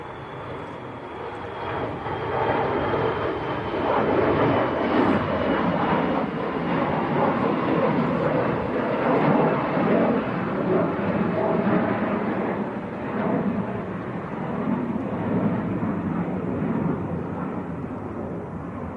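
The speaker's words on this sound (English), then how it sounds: "KLM to Amsterdam on the roll." A KLM Embraer E175 jet rolls for takeoff at Manchester Airport, a broad engine roar swelling in from a distance, holding loud and steady, then easing slightly, with no speech over it.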